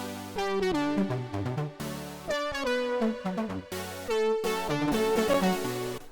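Saw-wave synth chords sound together with a lead synth melody in a pop remix, dense and continuous with sustained chord blocks and quick melodic notes on top.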